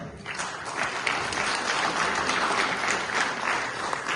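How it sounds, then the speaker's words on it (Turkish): A crowd claps steadily and fairly loudly for several seconds at a speech at Comrat State University, a dense, even patter of many hands. "Süleyman Demirel rahmetliyi bir alkışlayalım inşallah"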